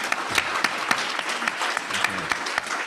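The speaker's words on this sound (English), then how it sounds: "Can we get a clap for that?" A conference audience at a summit breaks into steady, dense applause, many hands clapping evenly for a few seconds with no voice over it.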